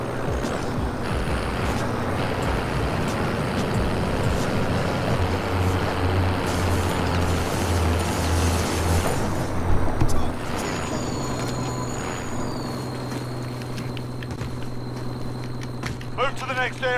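A vehicle in a video game drives with a continuous loud, droning engine rumble, which shifts and eases partway through. A voice speaks over it toward the end.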